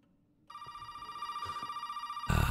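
A telephone rings inside the Resident Evil 7 video game, a steady electronic tone holding through the clip and gradually swelling in loudness, ending in a louder burst, with no talking.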